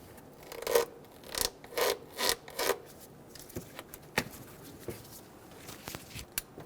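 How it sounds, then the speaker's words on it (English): A vacuum hose is worked off the throttle body of a 2.7L four-cylinder 2005-2015 Toyota Tacoma, giving a few soft rubbing, scraping pulls followed by light taps, faint and close. "Remove the vacuum hose."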